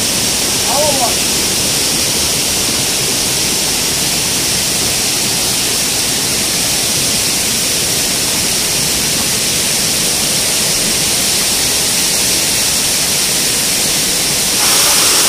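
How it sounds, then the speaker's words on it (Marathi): A waterfall pours at speed into a village stream in the Konkan countryside, making a loud, steady, unbroken roar that fills the whole stretch. "बघा मस्तपैकी धबधबा आहे"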